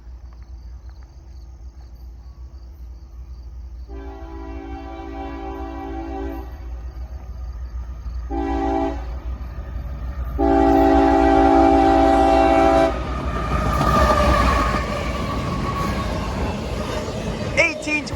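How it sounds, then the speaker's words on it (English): A CSX freight train approaches on a rail line at dusk, its horn sounding in several blasts before the cars rumble past louder and closer, with insects chirping faintly in the background. "we got another CSX train down the line"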